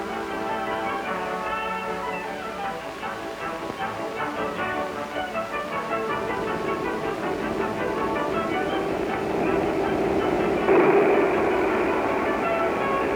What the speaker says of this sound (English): a manifest freight is switched onto a siding for a meet with one of the streamlined daylights